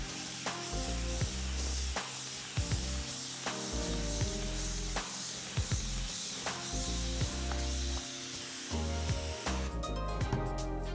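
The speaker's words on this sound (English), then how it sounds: "So let's give the whole thing here a good spray." Water sprayed from a hand mister over a terrarium build: repeated short hissing bursts in a rhythmic series, close and fairly quiet, with clicks between sprays.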